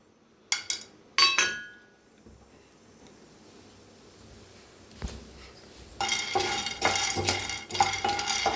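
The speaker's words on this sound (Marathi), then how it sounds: "पॅन चांगला गरम झाला आहे त्याच्यात टाकूया शेंगदाणे शेंगदाणे भाजून घेऊया आपण" Peanuts dry-roasting in a hot pan on a gas stove are stirred with a utensil, giving a few sharp clinks early, then a steadier scraping and rattling of nuts against the metal, close and moderately loud, with no talk.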